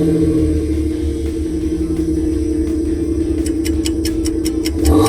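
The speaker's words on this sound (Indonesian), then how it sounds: "suara mobil apakah ini?" A used car's engine runs steadily close by, a low constant rumble with faint rapid ticking that starts partway through, no talking.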